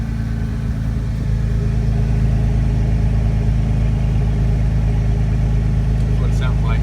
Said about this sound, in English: This is a straight 6 motor.